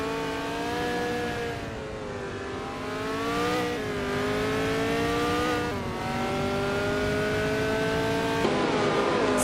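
A 1968 Crossell 15F race car engine in a racing video game drones steadily with a strong harmonic whine, its pitch climbing and then dropping at several gear changes across the run.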